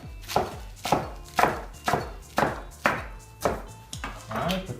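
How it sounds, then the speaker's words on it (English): A knife chops through red leaf lettuce on a cutting board in a steady run of about nine sharp, close strikes, roughly two per second, with no talking. "I'll just grab a couple leaves,"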